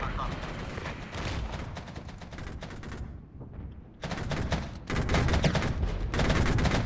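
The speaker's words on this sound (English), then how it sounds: "we have found enemy artillery that is currently shelling our forces" Dense, continuous booming and crackling gunfire and shelling from enemy artillery in the war game Regiments, loud and sustained with one brief lull before it surges back even heavier.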